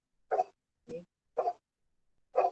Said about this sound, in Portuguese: Eita, esse aí é meu cachorro.